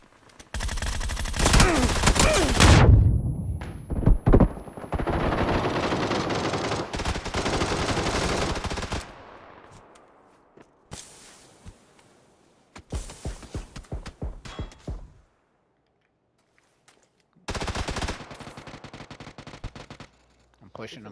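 Bursts of gunfire in the battle-royale game PUBG, loud sharp volleys in the opening seconds followed by scattered shorter clusters of shots with quieter gaps between them.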